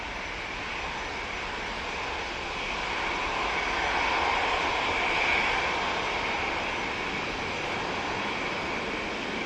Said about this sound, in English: the second Jet2 air tanker is on its way out towards us